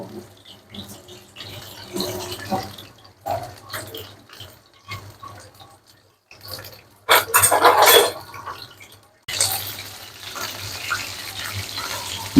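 Loitta fish frying in a pan over medium heat, patchy close sizzling and crackle broken by quiet gaps, with a louder burst of spitting oil and watery rushing sounds toward the end.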